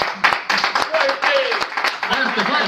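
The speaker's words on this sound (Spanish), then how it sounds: "Para que otra vez otro aplauso." Studio audience applause after an interview on a live Mexican broadcast, with scattered clapping under a host's voice talking.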